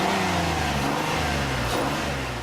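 A 2011 Ford Explorer with a 3.5-litre V6 accelerates, its engine giving a sustained, fairly loud rising drone heard from inside the car with no talk over it.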